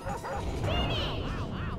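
A dog in the video game Mario Party 4 gives a run of yipping, whimpery barks, close and fairly loud, set over busy game music.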